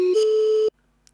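Sampled instrument notes in the Renoise tracker ending with a note off: a steady bright tone that steps up slightly in pitch, holds briefly, then cuts off sharply into near silence.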